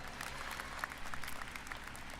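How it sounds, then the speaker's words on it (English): A live audience at PlayStation Experience 2017 applauds a PlayStation VR game announcement, with steady, moderately distant clapping throughout. "Stop clapping."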